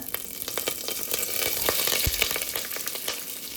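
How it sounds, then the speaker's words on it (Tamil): Fennel seeds, onion and curry leaves fry in hot oil for chicken white salna, a dense crackling sizzle with brief pops and spoon scrapes, close and fairly loud throughout. "சோம்பு மட்டும் சேர்த்துட்டு லைட்டாக அது பொரியட்டுங்க நம்ம வந்து வெங்காயம் கருவேப்பிலையும் சேர்த்துறோம்"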